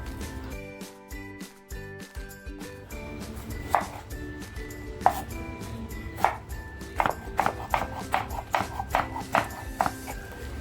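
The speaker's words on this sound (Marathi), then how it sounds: "कांदा आणि टॅमॅटो घेतला आहे तो मी कापून घेते" A knife chops onion on a board for homemade prawn Chinese-style cooking, sharp close taps that start sparse and speed into a quick rhythmic run, over faint kitchen background.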